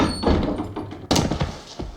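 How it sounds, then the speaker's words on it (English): Door opening in a video game in the style of the classic Resident Evil games, heard as a creaky mechanical sweep followed by a heavy thunk about midway, loud and close with no talking. "Why did that almost sound like a Resident Evil door opening from the old classic games?"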